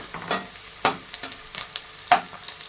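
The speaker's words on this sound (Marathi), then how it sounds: "चांगलं कांद्याला तळ घ्यायचं" Onions fry in a pan for a green math leaf dish, a soft sizzle under repeated scraping and clinking strokes of a spoon stirring them, close up and without talk.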